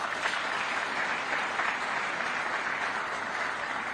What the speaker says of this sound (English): I think we must clap for this sector.